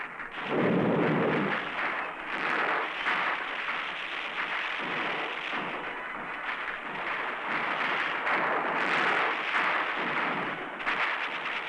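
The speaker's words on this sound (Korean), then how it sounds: "다음에는 가장 인상이 깊어진다는 심포 사격 훈련입니다." Loud, continuous rumbling volleys of small-arms and artillery fire roll across a 1960s Korean army live-fire infiltration course in Nonsan, a dense unbroken barrage with no voices.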